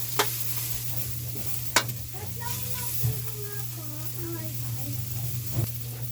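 Onion, garlic and ginger sauté together in a pan, a steady low sizzle running under occasional stirring scrapes and a few sharp utensil clicks, with faint background voices.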